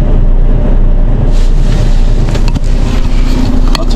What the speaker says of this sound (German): Fahrzeug läuft.